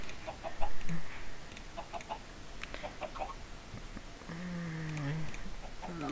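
Chickens in the Minecraft video game cluck in short, scattered bursts at moderate loudness, with one longer drawn-out call near the end over a steady game background.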